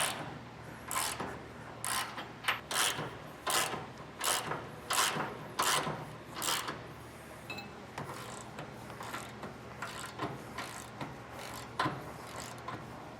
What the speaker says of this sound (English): I just find it easier to not have the bolt spin on me at all while I try and tighten down the other nut